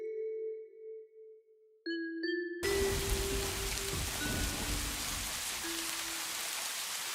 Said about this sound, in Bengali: দেখেছো, বলতে না বলতে কেমন আকাশ ভেঙে বৃষ্টি শুরু হলো।